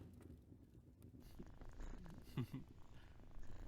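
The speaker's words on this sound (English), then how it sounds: "I'm going to take those purrs as a yes." Soft, low purring rumbles close by, quiet and continuous, with a couple of small rustling bumps near the end.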